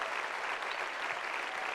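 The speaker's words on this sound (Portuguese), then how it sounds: "Enquanto isso, a igreja vai aplaudir vocês, por favor. Vamos aplaudir forte." A church congregation applauds loudly during a worship service, dense steady clapping filling the hall without pause.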